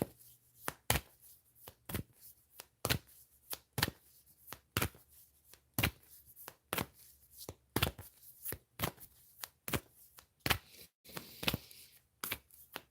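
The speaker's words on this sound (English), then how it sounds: "I'm shuffling." Tarot cards are shuffled in a steady series of sharp, crisp riffling snaps, roughly one per second, close and fairly quiet with no talk.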